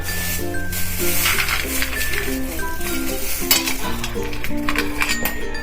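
Cashews fry slowly in hot oil over a low flame, a steady soft sizzle with occasional metallic clinks of a stirring spoon against the pan, gentle background music tones running throughout.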